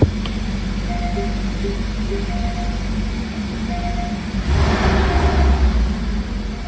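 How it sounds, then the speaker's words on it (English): A 2022 Porsche Boxster S 718 2.5L turbo engine idling steadily, then revving up briefly with a louder surge before settling back, close and continuous. "Just give it a little rev."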